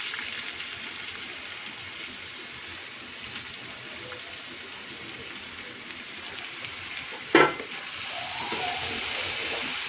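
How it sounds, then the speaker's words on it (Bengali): Vegetables with rice frying in a pan give a steady, even sizzle throughout, joined by one brief clatter near the end. "সব ইনগ্রিডিয়েন্টস দেওয়ার পরে এটা ভেজে নিচ্ছি"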